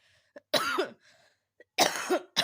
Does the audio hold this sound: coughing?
yes